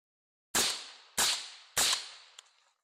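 Three rifle shots through a BOSS guillotine suppressor, spaced about half a second apart, each a sharp, muffled crack with a short decaying tail, then a faint small click before silence.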